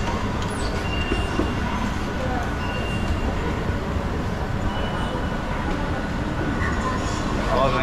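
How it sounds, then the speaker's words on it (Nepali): A driverless train in South Korea runs on its elevated track between Suwon and Everland, giving a steady, loud rumble and rattle of wheels and carriage throughout, with faint brief squeals and occasional low voices nearby. "ए मजाले अब ड्राइभर नभएको ट्रेनमा चढिन्छ।"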